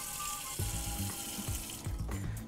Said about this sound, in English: I'm gonna put a little bit of water here at the bottom